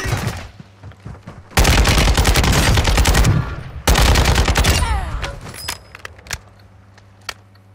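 Rapid automatic gunfire in the online shooter Warzone 2, two loud sustained bursts of several seconds each, followed by scattered single shots and clatter fading off.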